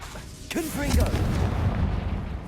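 A Confringo spell explodes in Hogwarts Legacy, a dense blast with a rising whoosh and rumbling low end that holds for the full stretch, with a voice sounding under the din.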